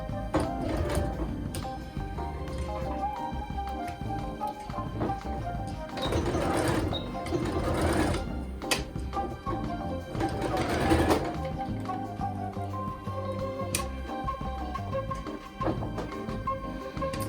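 A sewing machine stitches a skirt to its waistband in steady, continuous runs, pausing briefly between bursts of whirring, close and fairly loud with no talk.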